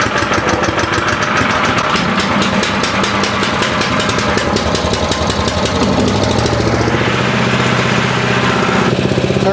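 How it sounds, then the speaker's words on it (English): Predator 6.5 HP 212 small gas engine running on a chipper shredder, a loud steady mechanical drone with a rapid knocking beat, continuous throughout with a shift in tone near the end. "You gotta turn this on to on, and then engine starts."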